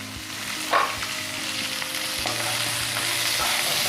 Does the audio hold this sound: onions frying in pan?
yes